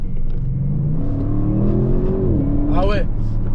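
An Audi RS7 2021 with a 600-horsepower V8 pulls hard off a launch-control start, a loud continuous engine roar rising steadily through the gears with a brief shift break near the end, captured from inside the cabin.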